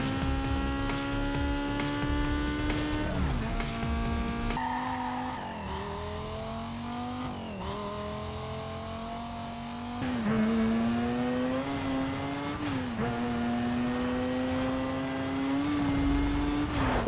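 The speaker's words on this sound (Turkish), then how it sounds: "Motor sesleri ve ses efektleri tertemiz." Racing car engines in the Need for Speed Most Wanted video game rev and whine through gear shifts, the pitch climbing and dropping repeatedly, with tire squeal mixed in and no talk.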